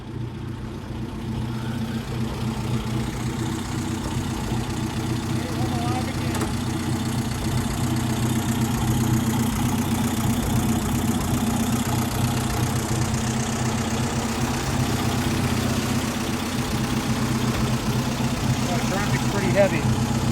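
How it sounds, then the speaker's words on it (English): A 1932 Plymouth PB roadster engine, heard as a steady low, throbbing idle that holds evenly for about twenty seconds, fairly close and moderately loud, with faint background activity. "Casey just took the 1932 Plymouth PB for a little ride around the block, and here he comes now."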